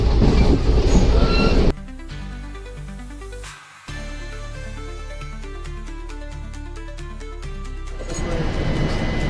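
A passenger train rolling on rails in India near Neem Ka Thana, loud rumbling and clattering outside, then a steady hum inside the carriage with rhythmic wheel clicks, swelling louder again at the end.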